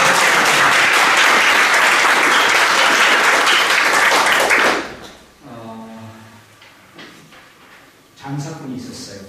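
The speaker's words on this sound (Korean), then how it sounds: "박수 한번" An audience at an association gathering claps loudly and densely for about five seconds, then the applause cuts off and a voice speaks, with a short burst of noise near the end.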